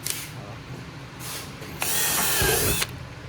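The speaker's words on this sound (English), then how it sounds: "I'll just get the drill here, kind of mark it" A power drill whirs briefly, then runs steadily for about a second, its motor whine rising, amid background clatter and ratcheting noise.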